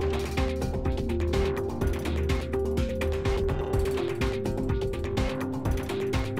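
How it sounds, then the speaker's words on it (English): Turning machine rotating precast concrete tunnel segments for the Delhi Metro, steady mechanical ratcheting and grinding gear clatter with a constant tonal hum, loud and continuous. "Each of these segments are put on to turning machines for turning."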